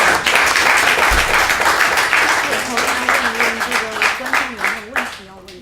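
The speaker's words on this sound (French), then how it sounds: "un tour d'applaudissements" A round of applause at a literary meeting with two authors, loud dense clapping that gradually thins while a voice begins talking over its tail.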